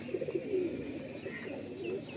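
Pigeons coo softly in a few low, rounded bursts against a steady background hum, with no talking.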